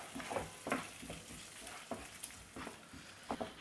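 Homemade garam masala stirred through a masala base in a pan, a spoon scraping in several distinct strokes over a soft, steady sizzle, close and moderately quiet with no voices.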